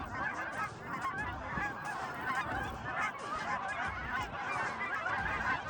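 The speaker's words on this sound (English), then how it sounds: "Bunch of Canadian geese." A flock of Canada geese honks continuously in the Alberta countryside, a dense, overlapping chorus of nasal calls at fairly close range with no talking.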